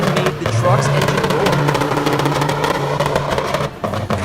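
A heavy log truck's engine roars loudly and steadily while hauling logs up steep, treacherous terrain, with the note dipping briefly near the end.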